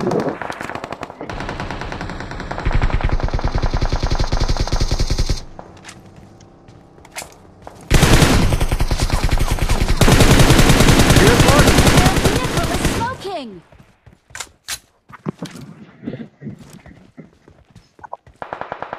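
Automatic gunfire in the battle royale game BGMI, loud sustained bursts broken by short pauses, with scattered single shots and footsteps afterward.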